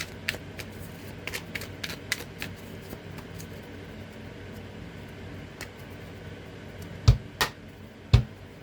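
A tarot deck is handled and shuffled, with quick soft card riffles and flicks early on, a quiet stretch, then a few louder taps and knocks near the end.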